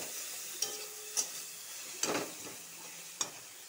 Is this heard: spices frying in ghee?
yes